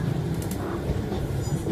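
Northern class 150 diesel multiple unit, unit 150107, pulling out of Leeds railway station, heard from onboard as a steady low engine rumble and rolling-stock hum, continuous and close with no voices.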